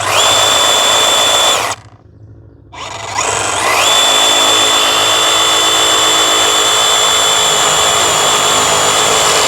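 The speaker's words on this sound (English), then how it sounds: "I got my reciprocating saw here, or sawzall, whatever you want to call it. And we're going to just cut this thing off as straight as we can." A reciprocating saw cuts wood while a spread-footer setup is being finished. It gives a loud, steady motor whine with a brief drop-off around two seconds, then resumes strongly and continues to the end without talk.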